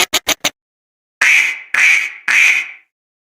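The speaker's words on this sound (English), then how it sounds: "What does the duck say? Quack, quack, quack." A duck quacks three times in a row, loud and close, each call drawn out, after a quick run of short clicks; no talking is heard.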